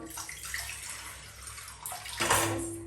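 Water is poured into a pot on a gas stove in a home kitchen, a soft splashing trickle that rises into a fuller, louder gush near the end.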